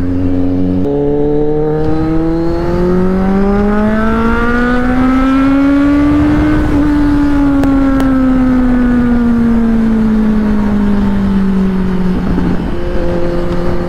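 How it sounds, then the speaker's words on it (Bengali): A Kawasaki Z900 inline-four motorcycle revs up smoothly and loudly, the engine note climbing to a high peak then easing back down over a sustained, continuous drone, close and alone with no talk. "ইনলাইন 4 এর সাউন্ড ভাই স্মুথ ভাই, স্মুথ একদম।"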